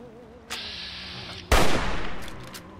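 Gunfire in the Fallout 3 video game, with a sharp shot followed a second later by a loud, heavy blast that rings out and decays over the next second.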